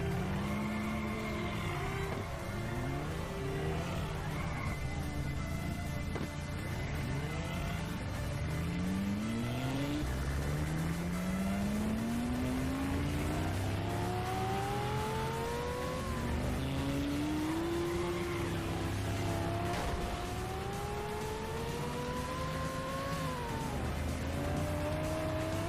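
Car engine in the Los Angeles Crimes video game revving and driving, with rising gear-shift pitch sweeps repeating over a continuous loud engine drone and occasional tire squeal, no talking.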